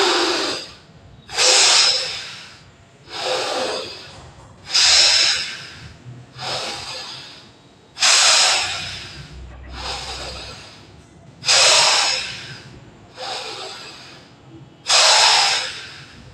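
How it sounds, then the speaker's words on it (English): Bhastrika yogic bellows breathing, with ten strong rhythmic breaths, forceful inhales and exhales through the nose at a steady pace of about one every 1.5 seconds, close and loud, no talking. "I was forcefully inhaling and forcefully exhaling."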